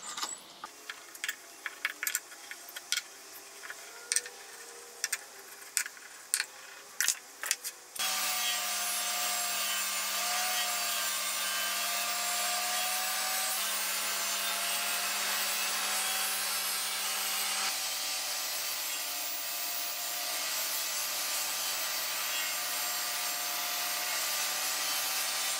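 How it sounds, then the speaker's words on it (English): A hand saw cuts wood while a Pantorouter XL base is built, starting with a run of sharp, rhythmic taps and then settling into a steady, loud rasping stroke that continues alone. "Finishing the cut with a saw and a chisel."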